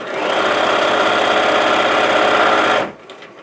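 A sewing machine stitches steadily along the hem area of bell-bottom jeans, a loud continuous rapid mechanical whirr lasting almost three seconds before stopping abruptly, leaving near silence.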